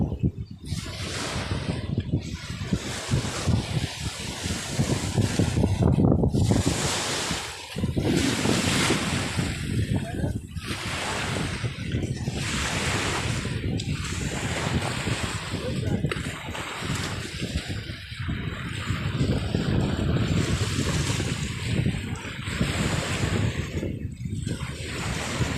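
A small boat at sea in the Philippines carrying an air compressor, heard as a steady mechanical drone under waves, splashing water and gusts of wind noise, with people talking over it throughout.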